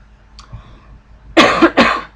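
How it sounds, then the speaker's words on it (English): Two sharp, close coughs in quick succession after a quiet moment, loud and harsh against near silence. "Sorry, I have a cough here."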